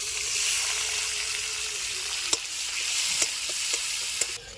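Chopped onions sizzle steadily in hot mustard oil, a continuous fry hiss with a few sharp clicks and scrapes of a spoon stirring the pan, close up with no voices.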